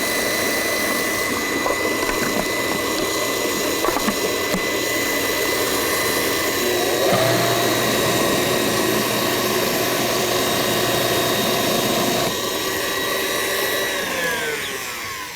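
A food processor churns frozen fruit into a soft ice-cream texture, its motor running loud and continuous with shifts in pitch as the blade works through the mixture.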